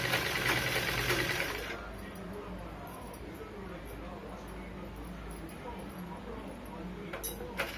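A sewing machine stitches blouse fabric in a steady close run for the first two seconds, then stops, leaving a quiet room with small clinks and a few light taps.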